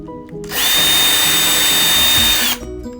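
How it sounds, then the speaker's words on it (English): A power drill bores a hole for a stud bracket inside a school bus conversion, a loud steady high whine lasting about two seconds with a quiet lead-in and tail-off. "now I'm gonna drill another hole here"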